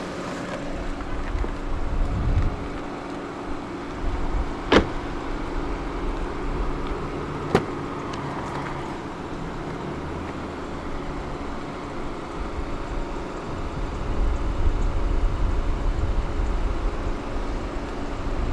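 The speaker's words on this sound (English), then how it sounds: "let's leave the engine on for a little while longer" A 2014 BMW 528i M Sport idles steadily with a low, even hum and a faint whine, heard close up and alone, with a couple of brief clicks along the way.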